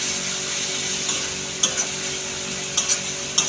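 Spiny gourd (kakrol) cooks in a wok with a splash of added water. A steady sizzle and hiss runs throughout, broken by a few sharp clicks of a spatula stirring against the metal.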